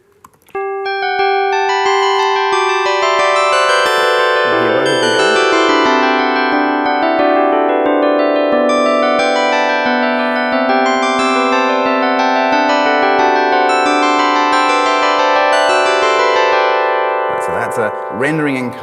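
A canon melody generated by functional composition, with two delayed copies of the line transposed against each other, forms a continuous bright, bell-like tonal texture of overlapping notes that rises and falls for nearly the whole stretch.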